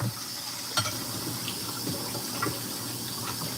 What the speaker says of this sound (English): I'm just gonna do the rest of the dishes that are here.